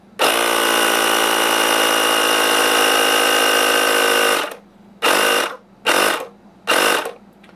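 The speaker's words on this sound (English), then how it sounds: "We're going to use this electrical pump to increase the reservoir pressure to that lower pressure limit." A small electric pump runs steadily to raise reservoir pressure on a Gearsafe leak-detection setup, a loud continuous motor whine for about four seconds, then three shorter bursts with brief pauses between them, with no talking.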